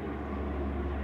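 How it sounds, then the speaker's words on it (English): A low-flying bomber aircraft passes overhead, its engine a steady, heavy droning roar that stays loud and constant throughout, with no voices. "What is this bomber doing so low?"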